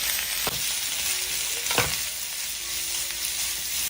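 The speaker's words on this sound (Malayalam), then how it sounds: "ഇനി ഒരു സവാളയുടെ പകുതി നീളത്തിൽ കട്ട് ചെയ്തതും കുറച്ച് ക്യാബേജ് കട്ട് ചെയ്തും കൂടി ഇട്ട് കൊടുക്കുക ഒന്ന് ഇളക്കി കൊടുക്കാം" Half-sliced onion and cut cabbage fry in a hot pan with a continuous crackling sizzle, broken by a few sharp scraping clatters as a spoon stirs them through.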